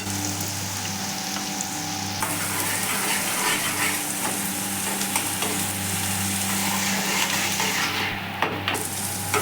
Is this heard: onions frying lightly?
yes